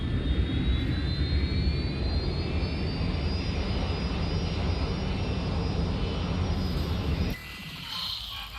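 A jet airliner in a video game roars loudly and steadily, the engine whine slowly rising in pitch, then drops off abruptly near the end to a quieter hum.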